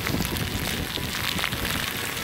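Heavy rain pours steadily at a theme park during a Halloween event, a dense continuous hiss of drops pelting surfaces with no breaks, fairly loud and close throughout.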